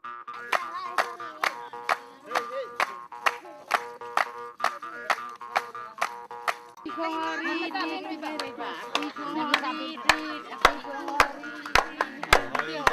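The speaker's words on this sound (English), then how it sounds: "Viewers encourage them by clapping and spontaneous sound of pleasure." Viewers clap in a steady, regular rhythm to encourage children playing traditional games among the Chorei, a Halam sub tribe, with voices, cheering and a sung chant mixed in as the clapping turns louder and sharper.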